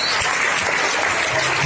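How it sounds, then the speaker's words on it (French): Audience applause at a hypnosis evening show, a steady dense wash of clapping hands with no talk over it. "Diane, on applaudit très fort."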